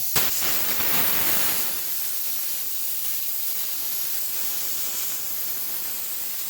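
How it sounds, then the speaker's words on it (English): Compressed air blasts through a fiberglass boat polishing pad, a loud broadband hiss that stays steady and close for the whole stretch with no one talking. "you can take an air compressor"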